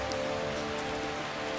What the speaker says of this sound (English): Their sensitive hearing amplifies the sound of rain on leaves